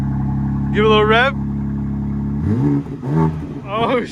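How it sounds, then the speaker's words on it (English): A 2025 BMW M4 Competition xDrive convertible engine idles with a low steady rumble, briefly revving up and down, while people talk nearby. "Give it a little rev."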